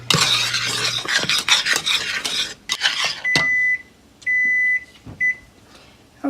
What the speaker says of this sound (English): Just whisk pretty much the whole time so it doesn't stick.